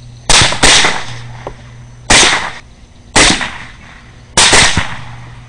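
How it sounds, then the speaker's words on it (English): Rifle gunshots fired during a night hog hunt with a thermal sight, five sharp, loud cracks in quick succession, two close together, then three spaced shots, each with a short decaying echo. "You shoot the big one on the right."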